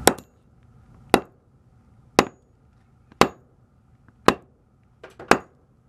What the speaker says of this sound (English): Let's fucking destroy it. We're gonna use the back side of the axe this time,